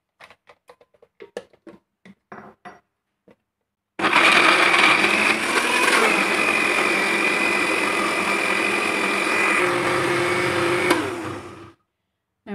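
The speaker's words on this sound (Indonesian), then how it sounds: "haluskan semua bahan-bahan yang akan dihaluskan" A blender grinds spice ingredients with water, a loud steady whirring roar running for about eight seconds after some brief clattering and knocks, then cutting off.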